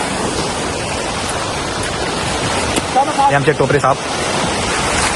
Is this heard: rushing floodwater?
yes